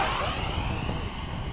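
Model F-15 jet aircraft motor at full throttle during a midday flight at Bayside, a steady loud whining roar with sweeping pitch, heard alone and slightly fading.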